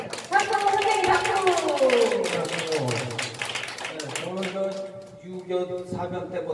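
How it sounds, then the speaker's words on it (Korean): An audience at a nursing-home volunteer performance claps, with quick, rhythmic hand claps running under loud singing and speech throughout. "우리 선생님께 자, 박수 한번 다시 쳐드릴게요"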